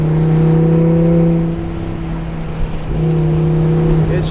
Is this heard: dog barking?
no